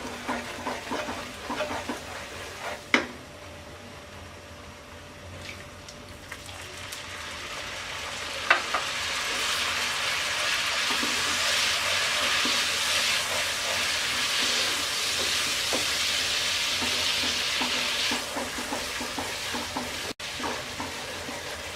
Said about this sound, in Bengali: এবার দিয়ে দিচ্ছি 1/2 কাপ ভিনেগার